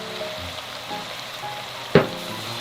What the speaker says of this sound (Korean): 가지 숨이 살짝 죽으면서 잘 볶아지고 있어요.